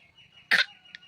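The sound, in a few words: child coughing on purpose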